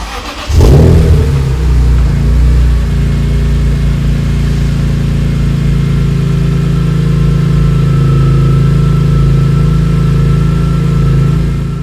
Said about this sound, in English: Okay, so that was the cold start from outside of the car.